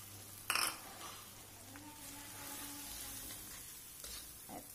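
Cereal mix for cereal prawns sizzling as it is stir-fried in a pan, a quiet continuous frying hiss with a brief sharp clatter of utensil against the pan near the start and a soft clink near the end.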